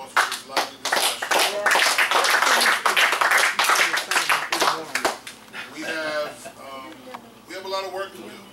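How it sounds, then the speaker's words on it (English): A panel discussion audience claps in a dense burst of applause for about five seconds, then it fades as a voice begins speaking. "give yourself a round of applause for this lively discussion"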